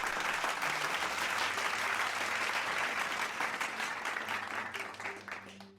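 Crowd applause during a live zodiac-themed talk show, a dense wash of clapping that holds steady and then fades toward the end, with faint low tones beneath.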